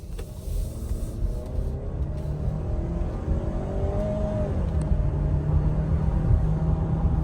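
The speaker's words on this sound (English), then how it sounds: "Let's go ahead and see what the Edge has for some get up and go here as we go around this corner." A 2024 Ford Edge SUV accelerates through a corner, its engine note rising steadily over road and tire noise heard from inside the cabin.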